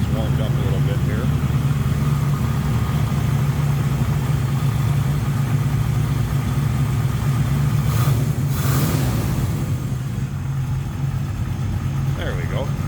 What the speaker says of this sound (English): Let me see if I can get this to idle down a second.